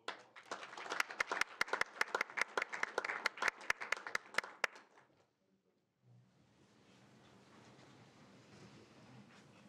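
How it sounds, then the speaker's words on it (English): A city council meeting audience gives a round of applause honoring long-serving city employees: dense, fairly loud clapping for about five seconds that stops abruptly, followed by quiet room noise. "So again, let's give them another round of applause."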